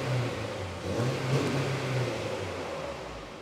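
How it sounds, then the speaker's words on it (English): A turbocharged 8th-gen Honda Civic on its stock exhaust revs in a steady, moderately loud rise and fall, close by, with a muffled low engine drone and no talking. "now let's give it a little rev with the stock exhaust"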